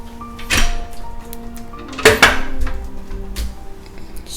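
A hotel room service pass-through door at a beach resort in Macao being opened: a couple of sharp knocks and latch clicks, then a clatter, close up in a quiet room with faint hum behind.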